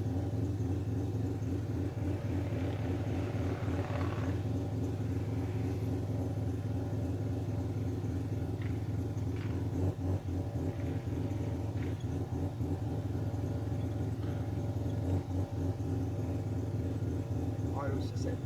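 A series 1 Mazda RX7 with a 12A bridgeport rotary engine cruising, a steady droning engine hum with a buzzing low rumble that holds evenly throughout, with someone talking over it at times.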